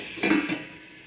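Mixed vegetables fry in a pan for restaurant-style vegetable rice, a soft steady sizzle broken by two brief scraping stirs of a utensil against the pan, close and fairly quiet.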